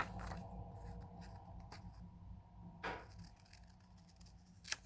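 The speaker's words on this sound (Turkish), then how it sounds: "Bu iç açılarını kesiyorum gençler." Scissors snip the inner angles off a paper triangle in a classroom geometry lesson, a few soft separate cuts and paper rustles, faint and close, with no talking.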